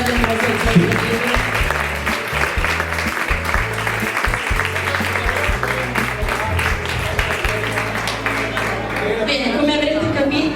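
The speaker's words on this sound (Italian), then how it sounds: "E quindi vi chiedo un grande applauso a una ragazza che rimarrà sempre nei nostri cuori" Audience applause fills the hall at a regional beauty pageant final, Miss Reginetta d'Italia 2016 in Veneto: dense, steady clapping sustained for about ten seconds over a continuous low musical backing.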